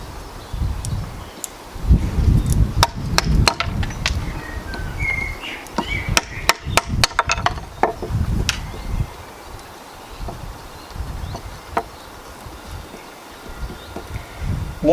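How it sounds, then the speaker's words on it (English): A heavy-duty knife hacks into wood outdoors, a short burst of sharp chopping strikes midway amid wind rustle and distant birdsong. "This knife comes in handy for some heavy duty hacking when I want to go into the wood."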